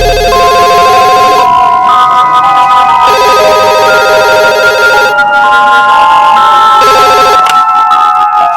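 A telephone rings loudly with a repeating electronic ringtone melody, playing in bursts separated by short pauses, clear and close with no voices.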